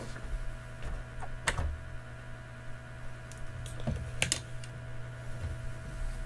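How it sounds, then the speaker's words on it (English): Keys pressed on a Brother WP-680 word processor, a few sparse clicks and taps spread over a low steady hum from the machine. "hold down code and hit P."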